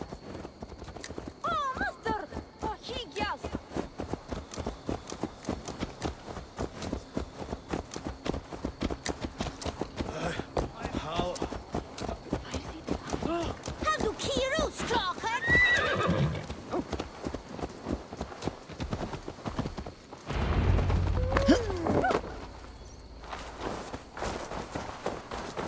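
Steady clip-clop of horse hooves from Assassin's Creed Valhalla, walking rhythmically close by, with whinnies and a louder heavy thud near the end, and speech at points over it.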